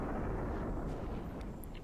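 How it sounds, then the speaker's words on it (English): Siege cannons fire shrapnel and freezing area shots on the walls of Stonemist Castle in Guild Wars 2. A heavy, sustained blast rumbles loudly throughout, with no voices. "looks like a shrapnel, a single shot, and an AoE freeze from the cannons"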